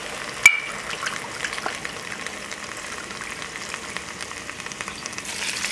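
Two cups of cabernet sauvignon poured into a hot pot of beef and cannellini beans, giving a steady, close, hissing sizzle that holds evenly throughout with no talking.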